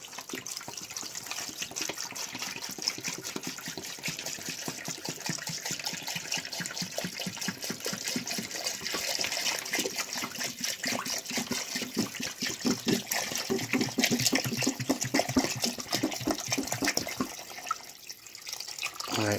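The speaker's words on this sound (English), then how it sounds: "I'm going to go ahead and stick the distilled water in there." Distilled water pours from a container into a soup pot for pho, a continuous splashing, gurgling stream that grows slightly fuller as the pot fills, then briefly breaks off near the end before resuming.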